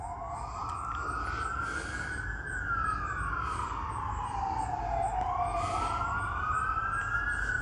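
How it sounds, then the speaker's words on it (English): A wailing siren sweeps slowly up and down in long glides, loud and steady over a low rumble of traffic, with no talk. "was going to say don't mind the sirens, but they're already off"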